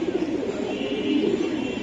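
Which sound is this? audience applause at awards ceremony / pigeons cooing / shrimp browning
pigeons cooing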